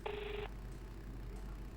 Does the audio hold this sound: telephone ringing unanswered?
yes